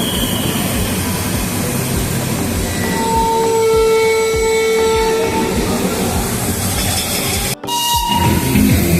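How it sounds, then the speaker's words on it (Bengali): A train at Ghum railway station in Darjeeling, a loud continuous rumble with a sustained tonal whistle or horn midway and a brief dropout near the end. "ট্রেন আসছে যাচ্ছে ছাড়ছে ইঞ্জিন চেঞ্জ হচ্ছে"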